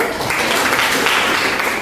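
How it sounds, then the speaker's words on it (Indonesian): Classmates clap for a student in a classroom, a steady burst of applause lasting a couple of seconds at close range, with a little chatter mixed in. "Beri tepuk tangan dulu."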